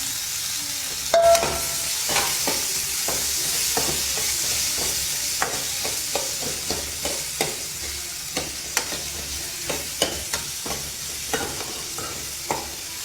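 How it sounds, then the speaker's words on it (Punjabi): Tomato frying with browned onions in a pan for a raw-banana curry, a steady sizzle with a long run of sharp spatula scrapes and taps against the metal, close and clear with no talking. "ਥੋੜਾ ਜਿਹਾ ਟਮਾਟਰ ਨੂੰ ਸੇਕ ਲਵਾ ਲਿਆ ਆਪਾਂ"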